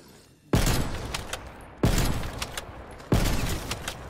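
Pelington 703 sniper rifle in Black Ops Cold War fires three loud, evenly spaced shots, each a sharp booming crack with a short fading tail and mechanical bolt clicks between them.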